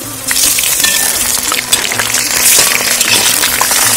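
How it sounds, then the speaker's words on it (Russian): Large chunks of meat fry in a pot over onions browned for plov, giving a loud, steady sizzling hiss with occasional light clinks and no talk. "Мясо я ложу вот таким крупным кусочком."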